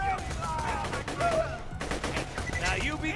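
Gunfire in Borderlands 2, rapid bursts of shots in quick succession, loud and close, with a short pause midway before firing resumes, mixed with game sounds and voices.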